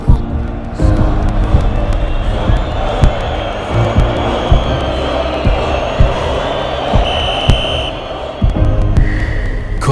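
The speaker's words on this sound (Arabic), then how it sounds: "تسمع صوت الجماهير، سعود سعود سعود سعود." A football stadium crowd chants rhythmically during a late penalty in a Saudi league match, a loud, dense roar with regular pulsing beats and sharp accents, while a commentator's voice rides over it.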